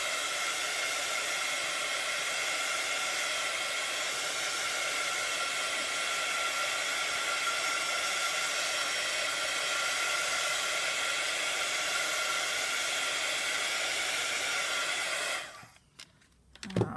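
A hair dryer blows with a steady, airy whoosh that continues unchanged before switching off near the end, leaving a few faint clicks.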